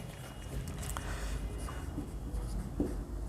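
Chalk or pen scratches steadily across a board during a Hindi physics lesson on electric current and drift velocity, a continuous dry writing texture with no clear talk over it.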